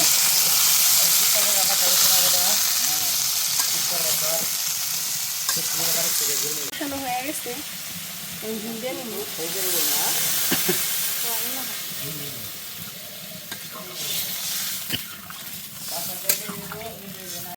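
Vegetables frying in oil in a pan after fish has been fried, a steady broadband sizzle with stirring scrapes and occasional clatter, with faint voices in the background throughout.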